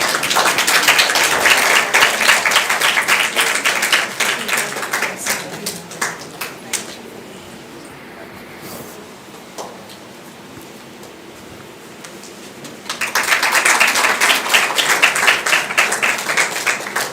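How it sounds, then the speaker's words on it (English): Audience applause at a women's summit, loud dense clapping that fades to a quieter lull in the middle, then surges back strongly for the final seconds. "A huge round of applause."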